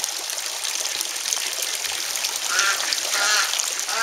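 Wild and pet ducks quacking near trickling water, a few brief quacks rising over a steady background of running water and light chatter of birds.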